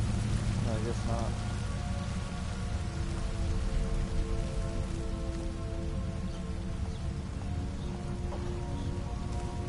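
Steady rainfall patters on surfaces in Skyrim, a continuous close hiss with scattered distinct drops and a faint tonal hum beneath.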